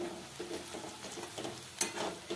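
Red chili powder being sautéed and stirred in a pan for egg bhurji, giving a soft, continuous sizzle with small scraping stirs, fairly faint and close, with no talking.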